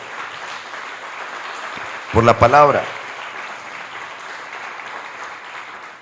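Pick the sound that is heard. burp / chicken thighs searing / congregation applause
congregation applause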